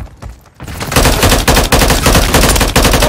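Sustained automatic gunfire in Call of Duty: Modern Warfare 3 Team Deathmatch on PS4 Pro, a quieter start giving way to loud, dense rapid bursts with sharp repeated cracks throughout.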